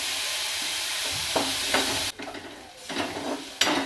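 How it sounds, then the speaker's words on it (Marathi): Onion and green chilli sautéing in oil, a steady close sizzle with several scraping stirs of a spoon through the pan and a brief lull partway through. "आपला कांदा आणि हिरवी मिरची आहे ती छान परतली"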